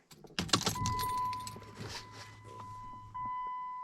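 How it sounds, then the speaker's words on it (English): Keys jangling as the ignition key of a Jeep Commander XK is turned, a quick burst of metallic rattles followed by a steady hum and a soft chime as the vehicle's electrics switch on, with no talk. "Turn ignition on."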